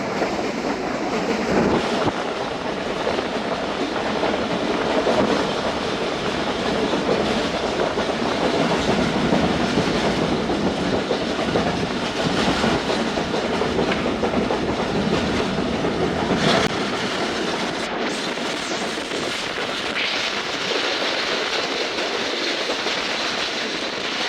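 Karachi Express passenger train running on Pakistani rail tracks, a loud sustained rumble and rush with rhythmic clickety-clack of wheels over joints, heard close for a long stretch with a brief sharp squeal near the end.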